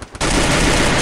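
Rapid automatic gunfire in the mobile shooter Free Fire, a loud continuous burst that starts abruptly after a brief quiet moment and fills the rest of the clip.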